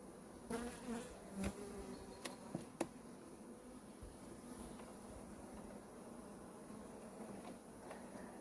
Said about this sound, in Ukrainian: І куча бджіл на бічній стінці.